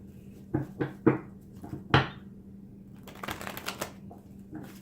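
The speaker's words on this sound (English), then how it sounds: "have to do one more shuffle because I wasn't ready." Cards are shuffled nearby: a few sharp riffling snaps and taps, then a quick burst of fluttering shuffles, fairly quiet with no talking.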